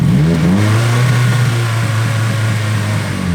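A Nissan S14 engine with HKS cams revs up sharply, its pitch climbing and then holding at a steady drone, loud and close, with no talking.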